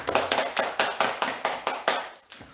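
A church congregation claps rhythmically in unison to give glory to God, a steady run of about ten sharp, evenly spaced claps that stop abruptly.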